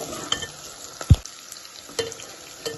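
Potatoes fry with curry leaves, coriander and onions for a brinjal and potato curry, a low sizzle under a few spatula scrapes and one sharp knock against the pan, with no speech.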